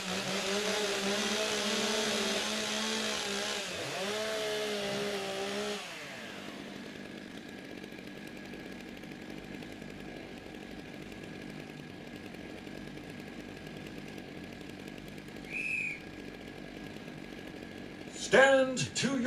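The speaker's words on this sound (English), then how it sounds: "the warm up your saws message is being given" Chainsaws warming up before a timbersports race, a loud revving whine for several seconds with a pitch dip, then cut to a quiet idle hum with brief faint tones.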